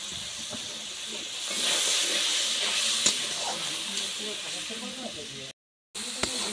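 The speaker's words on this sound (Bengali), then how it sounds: "এবারে দেবো লবণ, সামান্য জল দিয়ে কষিয়ে নেব।" Spice masala sizzling in a pan as it fries with salt and a splash of water for a Bengali bata fish curry, a steady close hiss that swells briefly and then continues with a few small pops and one short break.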